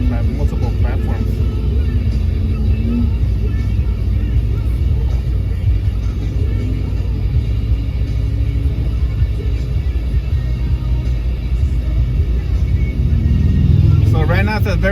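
Car driving south on the 5 freeway toward San Diego in slow traffic, a steady low engine and road rumble running throughout, with people talking over it.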